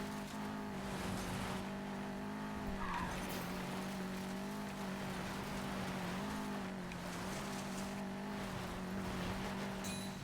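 Car drifting in a racing video game, with a continuous engine drone and a sustained tire squeal that swells and fades, steady and without talk.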